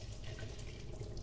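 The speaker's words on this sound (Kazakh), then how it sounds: "Содан кейін ішіндегі суын төгіп тастаймыз." Water pouring out of glass jars of home-canned cucumber pickles into a sink, a steady close splashing stream with no talk.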